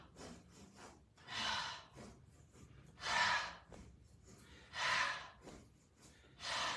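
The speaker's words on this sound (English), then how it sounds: "Inhale, inhale, inhale, exhale." Forceful nasal exhales during a yoga breathing exercise, four strong rushes of breath spaced evenly about every second and a half, with quieter inhaling sniffs between them and no talking.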